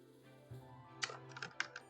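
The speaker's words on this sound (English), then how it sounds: "I'm typing this and I'm thinking." Soft keystrokes on a computer keyboard, a brief irregular cluster of quiet clicks heard alone against a low steady hum.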